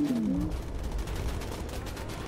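A .50 caliber machine gun in the aircraft game Bomber Crew fires a sustained burst of rapid rattling shots across the whole moment, loud and continuous.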